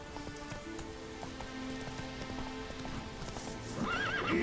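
Hooves of the horse Roach clip-clop in a steady cantering rhythm through a forest in The Witcher 3, with a horse whinny and bright rising tones near the end. The hoofbeats stay close and continuous.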